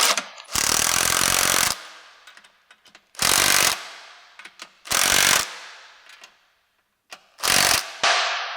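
A ratchet wrench tightens exhaust clamps on a B8.5 Audi S4 during a resonator delete and X-pipe install. It makes four close, loud bursts of rapid clicking separated by short pauses, with scattered small tool clinks in between.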